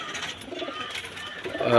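Pakistani teddy pigeons in a home flying loft give soft, repeated throaty coos close by, with a faint voice in the background and a louder rustle at the end.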